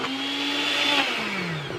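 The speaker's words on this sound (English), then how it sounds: "I'm just using this little smoothie maker." A small NutriBullet smoothie maker whirs steadily as it purées cooked pumpkin, a loud close motor whine whose pitch sags slightly toward the end.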